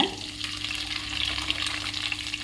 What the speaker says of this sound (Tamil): அரைச்சி வச்சுருக்கிற தக்காளி வெங்காயம் பேஸ்ட்டு வந்து ஊற்றிக்கலாங்க